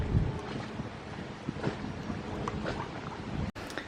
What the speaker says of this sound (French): il fait vraiment du vent